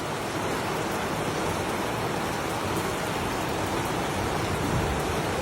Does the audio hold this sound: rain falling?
yes